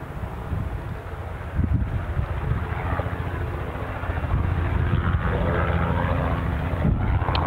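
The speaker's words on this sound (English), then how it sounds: "So we're just waiting for a chopper to clear, as you can probably hear." A helicopter passes near Newcastle International Airport, a steady, moderately loud rotor and engine drone that builds slightly over several seconds outdoors, with no talking.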